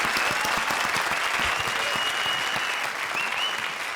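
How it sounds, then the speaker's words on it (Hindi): Studio audience on a comedy stage show claps loudly and continuously, a dense wash of applause with individual claps standing out, steady for the whole four seconds. "तो जोरदार तालियां प्रिंस और वीआईपी के लिए।"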